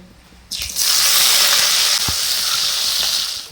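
Five-spice seeds (panch phoron) hit hot oil with a sudden loud sizzle that rises quickly and holds as a steady, bright frying hiss close by, with a faint stir or clink partway through.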